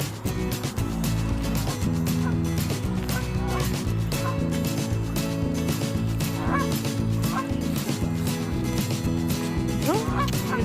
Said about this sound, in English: Oh look, there's a lone guy, a lone goose.